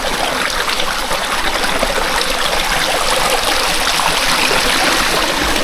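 Clear river water rushing over large rocks, a steady loud babbling flow that fills the whole stretch without pause and with no talking over it.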